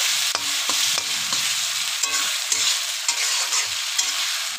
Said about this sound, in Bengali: তারপরে ভালো করে নাড়াচাড়া দিব এটাকে